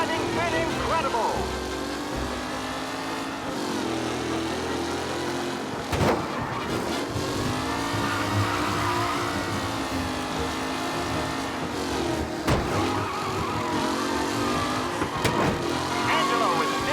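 Race cars roar through a lap in Mafia: Definitive Edition, engines droning and shifting pitch continuously, with occasional sharp bangs, while a commentator's voice talks over the racing.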